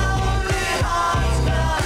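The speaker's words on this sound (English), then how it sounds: "2009 remastering that sounded like this." Short excerpt of a 2009 remastered recording: dense full-band rock with driving bass and drums, steady and loud throughout, no talking.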